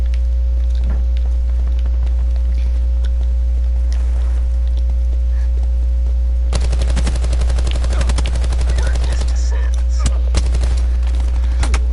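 Gunfire in the Prop Hunt video game, shots fired through walls: a quiet stretch with a few isolated shots and a steady low hum, then rapid bursts of automatic fire that start abruptly partway through.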